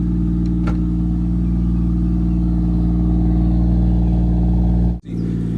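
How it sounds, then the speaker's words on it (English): Lexus IS300 engine with a Treadstone manifold and custom single exhaust, running loud and steady with a rising rev held throughout, then cutting off abruptly near the end before picking back up. "Maya, tap the gas real quick."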